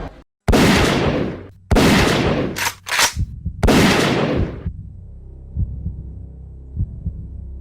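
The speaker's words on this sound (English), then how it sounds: "The first gunshots didn't immediately make sense." Several loud, close gunshots in quick succession in a nightclub, each with a sharp crack and rumbling tail, then quiet music with faint thuds.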